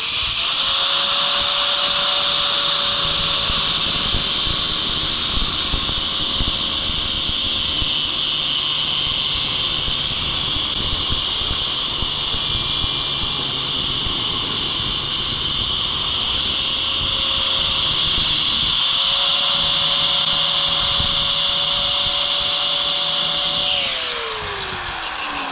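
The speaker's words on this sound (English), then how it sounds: "The best thing I use is the orbital grinder." An orbital grinder cuts into the metal base of a RAM truck's rear seat, a loud sustained high-pitched whine that holds steady for a long stretch, dips briefly, then resumes before winding down at the end.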